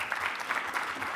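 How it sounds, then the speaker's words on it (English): Audience clapping for board members at a corporate annual general meeting, a short burst of dense, steady applause filling the room without any talk on top. "Let us give the board members the round of applause."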